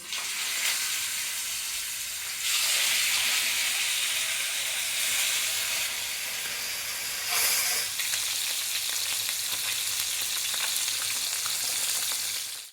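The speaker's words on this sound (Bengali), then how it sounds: "তেলটা গরম হয়ে গেছে এবার আমি মাছগুলো আগে থাকতে নুন আর হলুদ মাখানো ছিল এবার আমি এটা" Salted, turmeric-coated katla fish sizzles in hot oil with a steady, loud frying hiss that swells in bursts as the pieces crackle and spit.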